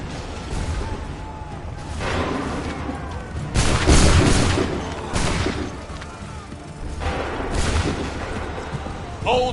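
Musket volleys in Assassin's Creed III, several heavy booming bursts of massed gunfire rolling out at intervals, loud and rumbling over a battlefield background.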